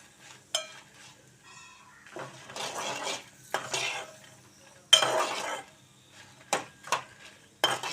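Dry red chillies fry in oil in a pan for coriander chutney, stirred with intermittent bursts of scraping and metallic clinks over a faint sizzle.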